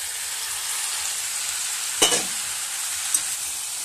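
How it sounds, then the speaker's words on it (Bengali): Vegetables such as ridge gourd and snake gourd with small mourala fish being stir-fried together in a pan, a steady bright sizzle broken by a clattering stir around the middle and a lighter scrape near the end. "ভালো করে একসঙ্গে কষিয়ে নিচ্ছি।"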